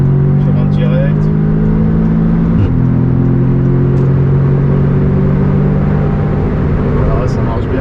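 An Audi S3 8V engine accelerates under load with a loud, steady rumbling drone and tonal whine that shifts pitch midway, heard from inside the car as it pulls continuously.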